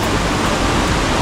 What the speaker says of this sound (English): you can enjoy the sound of the river